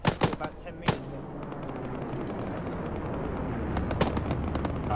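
Rapid bursts of gunfire from a military shooter video game set in a desert joint operation, a few sharp shots up front and another near the end over a steady dense rumble of battle, with voices talking underneath.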